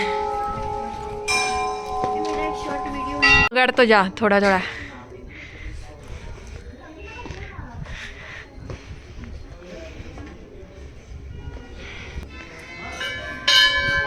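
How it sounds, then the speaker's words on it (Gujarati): Ringing metal bells hung by devotees at a Neem Karoli Baba temple known for its many bells, with bright clangs at the start, a loud cluster of strikes midway and more at the end, while people talk and walk nearby. "એટલે આ મંદિર ઘંટડીઓ માટે ફેમસ છે"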